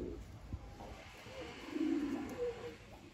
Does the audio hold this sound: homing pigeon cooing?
yes